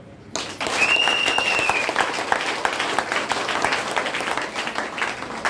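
Audience at a motivational seminar bursts into applause after a brief quiet moment, sustained dense clapping with a short whistle near the start and faint voices mixed in.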